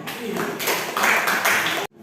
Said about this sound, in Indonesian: Tepuk tangan untuk Putra.